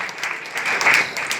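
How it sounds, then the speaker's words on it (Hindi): An audience gives a short burst of applause for business partners at an agro products company meeting, brisk close clapping lasting only a moment. "एक जोरदार ताली सभी के लिए"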